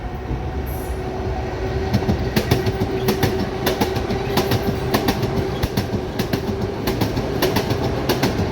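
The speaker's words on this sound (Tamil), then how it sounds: "ஆற்று பக்கத்தில் தான் ட்ரெயின் இன்னும் போய்கிட்டுருக்கு." A train runs beside a flooded river in Budapest, Hungary during the Storm Boris floods: a steady, close rolling rumble with rhythmic clickety-clack wheel beats and a faint squeal, continuous throughout with no voices.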